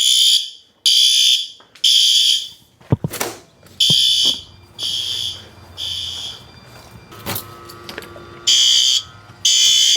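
A building fire alarm sounds during a system test, with loud repeated bursts of harsh horn tones in an uneven on-off pattern, while sharp clicks and bangs from a door or equipment cut through between blasts.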